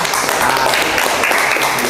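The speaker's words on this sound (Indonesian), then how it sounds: "Kita beri tepuk tangan untuk kelompok 1 ya" Classroom applause for the first student group after their presentation in an automotive engineering teacher-training session, a steady wash of many hands clapping at moderate loudness throughout, with faint voices underneath.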